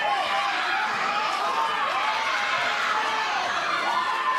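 A boxing crowd cheers steadily during a late-round rally, a dense wash of shouting and chatter that stays loud and continuous throughout.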